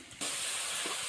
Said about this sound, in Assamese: ধুনীয়াকৈ ফ্ৰাই হৈ গৈ আছে।